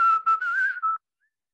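A pet yellow bird, likely a canary, gives a short clear whistling song of a few rising and falling notes. It is close and fairly loud, with no voices, and lasts under a second before it stops.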